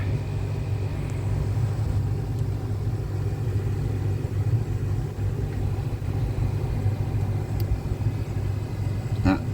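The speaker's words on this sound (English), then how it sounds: "Air source heat pumps going." Air source heat pumps run at a koi farm beside the ponds, giving off a steady low droning hum that stays even and continuous, with no voices.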